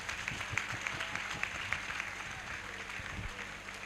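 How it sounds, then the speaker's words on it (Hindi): Congregation clapping at a Hindi-language Christian church service, a crowd applauding with some rhythmic, evenly spaced claps standing out, steady for a few seconds then easing slightly. "ताली बजाकर यार।"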